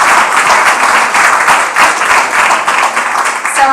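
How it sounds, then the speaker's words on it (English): Close, loud clapping from an audience at the Westchester Green Business Challenge award ceremony, a dense burst of hands applauding evenly for a few seconds. "So a round of applause"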